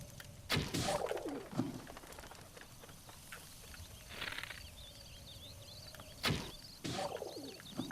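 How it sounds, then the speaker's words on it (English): Wild birds cooing in The Legend of Zelda: Breath of the Wild, soft pigeon-like coos repeating every few seconds over a quiet outdoor ambience with faint chirps, moderately near, no talk. "Oh, there's some birds."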